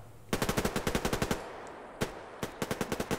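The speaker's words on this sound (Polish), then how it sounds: "To normalnie snajperzy we mnie strzelają, wiesz?" Gunfire in the online shooter Survarium: two rapid bursts of sharp shots, then a single crack, a brief pause, and another quick volley, loud and close with no voices.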